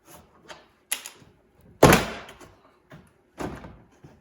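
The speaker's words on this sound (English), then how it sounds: "I'm just gonna use the pry tool right in this area right here, get some leverage so I can get my hand behind it and then pop it out" Door card on a Subaru STI being pried off its clips with a pry tool, giving several sharp plastic pops and knocks, one loud crack mid-way, close and without speech.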